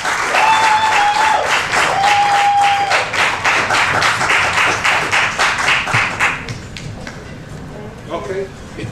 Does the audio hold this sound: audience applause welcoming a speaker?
yes